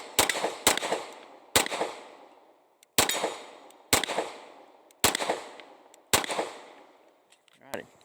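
A Beretta APX A1 pistol fires seven sharp, loud shots with irregular gaps of roughly one second, each crack followed by a ringing outdoor echo that fades before the next round.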